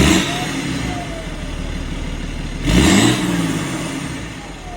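A remapped BMW E91 330d diesel estate with DPF and EGR deleted accelerates from inside the cabin, a steady engine drone rising in a brief surge midway before settling, no voices.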